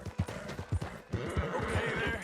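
Horse hooves clip-clop in a steady, quick rhythm in the video game Red Dead Redemption 2, close and clear, then blur into a denser rush of hoofbeats and movement.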